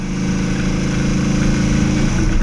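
A powerful Shelby Cobra engine runs loud and steady nearby, with a deep throbbing rumble and no talking.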